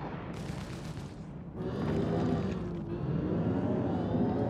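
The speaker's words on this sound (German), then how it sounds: "die Ninetales schießen auf die Piraten?" Gunfire in Star Citizen as Nine Tails fighters shoot at pirates, heard as a dense, rumbling wash of distant blasts and booms that swells midway and keeps going with no clear individual shots.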